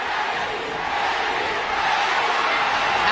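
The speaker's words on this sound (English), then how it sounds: "Pacquiao crowd chanting" Boxing arena crowd at a Manny Pacquiao versus Erik Morales fight, a dense, steady roar of many voices that swells slightly, sounding like sustained chanting filling the hall.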